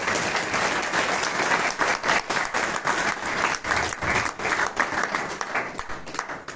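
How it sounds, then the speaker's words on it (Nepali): A church congregation claps hands together in a steady, dense round of applause at a New Year service, loud and close, filling the whole stretch with a few faint voices underneath. "ताली बजाएर प्रभुलाई धन्यवाद"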